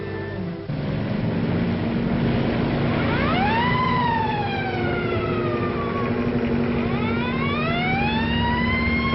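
A police motorcycle siren from a 1940 film, rising and falling in repeated loud wailing sweeps over a steady engine hum, with no talking.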